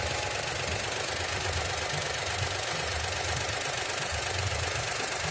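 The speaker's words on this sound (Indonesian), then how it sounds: "mesin masih halus" A Daihatsu Xenia's small engine idles smoothly, a steady low pulsing hum with a faint rhythmic beat, continuous and close with a broad hiss overlaid and no talk.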